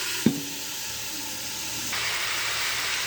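Pumpkin and potato pieces drop into a pan of onions with a thud, followed by a continuous steady sizzle and hiss of frying that grows slightly louder near the end.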